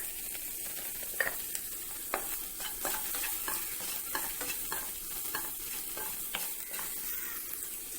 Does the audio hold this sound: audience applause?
no